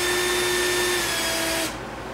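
An electric drill runs steadily during repair work on a 1990 Jeep Wrangler 4x4 actuator, giving a loud, close, constant motor whine that drops off abruptly near the end as the drill spins down.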